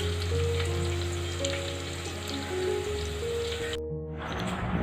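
Chana dal frying in hot oil with green chilies, onion and curry leaves, a steady close sizzle and crackle throughout, continuing without a break.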